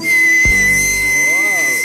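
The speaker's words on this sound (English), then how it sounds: "One of the things you can do with periwinkles is make them into whistles." A periwinkle shell blown as a whistle gives a loud, steady high-pitched tone for the whole moment, with a brief thump and a short voice partway through, close to the listener.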